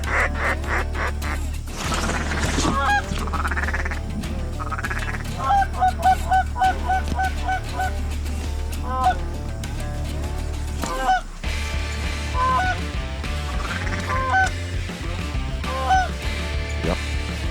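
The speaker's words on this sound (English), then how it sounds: "Geese coming over." A flock of geese flying over during a Washington waterfowl hunting opener, honking repeatedly in overlapping calls that rise and fall, moderately near, against steady outdoor background noise.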